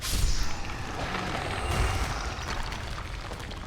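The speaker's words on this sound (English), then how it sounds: "we're getting the explosion" Explosion in the video game Dark Souls III, a dense, rumbling boom with a sustained roar and crackling debris that lingers for several seconds at steady loudness, with no voices over it.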